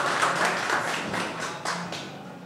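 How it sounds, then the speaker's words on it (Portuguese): Audience at a Pint of Science evening talk applauds the professor with dense, steady clapping that blends into a continuous wash, fairly close and fading slightly toward the end. "uma salva de palmas para o professor."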